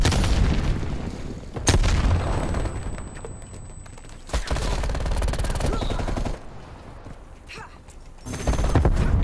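Loud grenade blasts and rapid gunfire in Call of Duty: Cold War, with heavy booms near 1.7 s and 4.3 s amid ongoing shooting and a final burst near the end.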